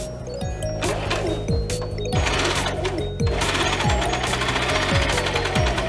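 Sewing machine running steadily under a pillow almost to the end of a seam, then back stitching. Its fast, loud motor hum and rhythmic needle chatter carry on continuously throughout, with no talking.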